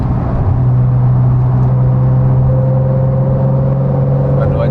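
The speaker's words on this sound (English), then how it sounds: "I love the sound of the flat six engine that are in these nowadays." A Porsche 991.1 Carrera S with the X51 Power Pack and its flat-six engine drones steadily from inside the cabin while driving, a constant low hum with a rising tone toward the end.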